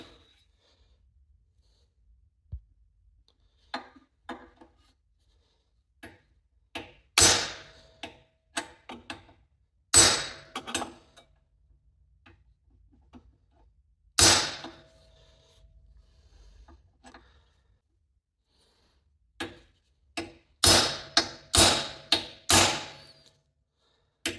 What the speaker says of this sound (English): I'm gonna give it a few whacks